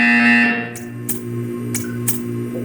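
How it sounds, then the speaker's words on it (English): A buzzer in the Portal 2 video game, a sustained electronic tone fading out, followed by short sharp bursts repeating in pairs over a low hum. "You will hear a buzzer."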